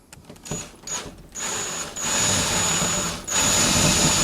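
Short screws are driven into a door to mount a TDMALE fingerprint lock, giving several close, loud bursts of a whining power drill separated by brief pauses, with longer steady runs toward the end.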